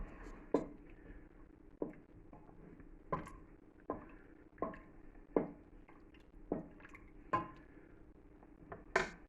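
Thick melted cheese glops back into a pan in a series of soft, wet splats and drips, roughly one every second, quiet and close with no talking.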